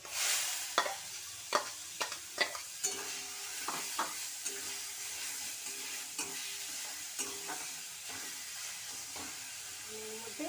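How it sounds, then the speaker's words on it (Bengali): Papaya pieces dropped into hot oil in a wok for chutney set off a loud, steady sizzle, with several sharp metallic stirring clinks early on and no talking. "আমি পেঁপেগুলো কড়াইয়ে ছেড়ে দিচ্ছি।"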